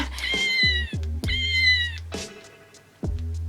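A house cat meowing close by, with two long drawn-out meows followed by a softer shorter one, separated by brief pauses and soft thumps.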